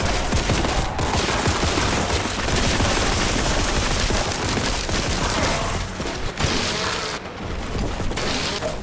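Bolt gun firing in the video game Warhammer 40k: Boltgun, a dense rapid barrage of loud booming shots running almost without pause, with a couple of brief gaps near the end.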